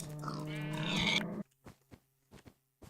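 A pig grunts in a cute video game, with a long, loud squealing grunt followed by several short, soft grunts spaced apart after it.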